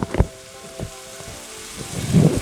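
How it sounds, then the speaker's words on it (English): Garlic goes into a hot pan for meat sauce with a few clattering knocks, then a soft, swelling sizzle that grows louder near the end. "we're going to go ahead and go in with the garlic"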